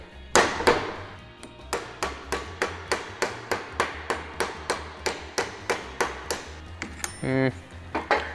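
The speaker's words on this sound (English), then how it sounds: "I'm going to give it a try to help keep it curved while we're hammering our tucks back together." Sharp metallic hammer blows ring out in a steady rhythm, about twenty strikes in quick succession hammering tucks in thin sheet metal, close and loud, with a brief clatter near the end.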